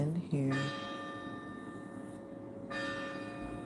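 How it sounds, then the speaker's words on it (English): A city church bell rings outside, its sustained, resonant tones sounding twice at a moderate distance, with a voice briefly heard at the start. "city bell making a sound, letting us know."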